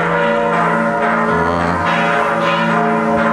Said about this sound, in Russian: Вот сейчас звучат колокола.